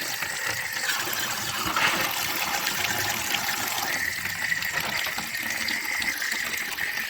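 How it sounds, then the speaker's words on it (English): Water gushes and gurgles steadily from a loosened fitting on a new electric water heater being drained, a continuous close, fairly loud splashing flow with no talk. "And then I'll crack this and let it gurgle."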